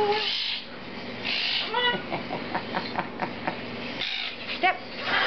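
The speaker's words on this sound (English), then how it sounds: "Again, this is a Triton cockatoo." A hand-fed Triton cockatoo chick hatched in 2013 gives a run of close, shrill rising squawks and short chirping calls in quick bursts, with one louder cry near the end.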